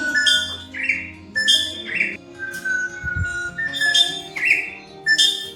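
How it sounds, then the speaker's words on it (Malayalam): Morning birdsong in the misty hills of Idukki, Kerala, clear repeated whistled phrases and chirps from a nearby bird at regular intervals, with quieter calls behind. "പിന്നെ രാവിലെ തന്നെ നല്ല കിളികളുടെ ശബ്ദം"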